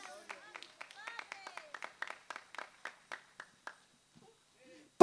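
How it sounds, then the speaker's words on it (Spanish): Congregation at an outdoor Quechua-language sermon in Churcampa, Peru claps for Jesus: a faint, thin run of distinct hand claps in a steady rhythm for about four seconds, with faint voices mixed in, then quiet. "A su nombre, dale palmas a Jesús."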